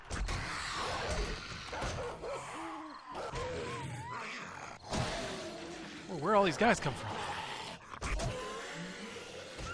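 Zombie dogs in the survival game 7 Days to Die bark, yelp and growl in short bursts amid clattering game noise, while someone talks over the commotion.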